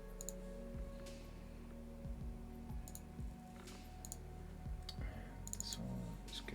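Rapid mouse clicking while playing EVE Online, a quiet series of sharp clicks in small bursts and scattered single taps over low game ambience.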